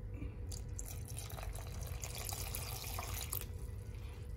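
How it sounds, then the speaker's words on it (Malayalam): Water poured into a pot of yogurt curry for Guruvayoor rasakalan, a steady close splashing trickle that runs continuously with small bright drips on top. "വെള്ളം ചേർത്ത് കൊടുക്കുക"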